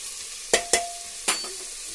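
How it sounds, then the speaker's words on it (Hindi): Masala frying in a pan for a chole recipe, stirred now and then: a few sharp scraping clacks of a spoon against the pan over a soft, steady sizzle, close by and with no talking. "5 मिनट तक इसे फ्राई कर लेती हूँ, उसके बाद मैं आपको दिखाती हूँ। लेकिन मैं इसको चलाते रहूँगी।"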